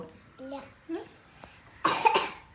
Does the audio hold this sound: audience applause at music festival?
no